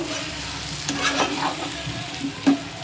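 Eggplant pieces stirred in a hot pan with salt and turmeric, a spoon scraping and clacking against the metal in a few uneven strokes over a soft sizzle, close by with no voices.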